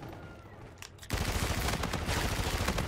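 Sustained automatic gunfire from a first-person Infinite Warfare shooter match, bursting in loud and dense about a second in after a quieter stretch, then rattling on continuously to the end.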